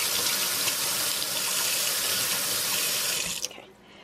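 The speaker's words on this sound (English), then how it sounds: "Now, rinse off my spoon." A kitchen tap runs steadily as a spoon is rinsed under it, a loud, close, continuous gush of water that cuts off abruptly near the end, with no talking.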